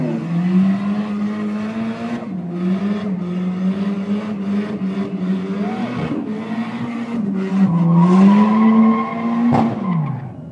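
Drift car tyres squeal and skid through a sustained slide during a drift battle, loud and close, with engine tone rising and falling and a sharp pitch drop near the end.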